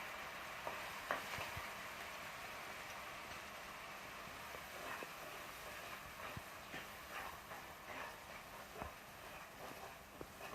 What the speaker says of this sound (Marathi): दोन मिनटं हे परतून घ्यायचं आहे